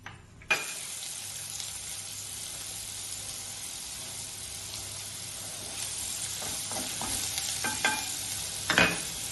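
Onion and fennel seeds frying in olive oil in a pan, starting as they hit the oil with an abrupt burst of sizzling that continues steadily, with occasional scraping stirs and clatter near the end.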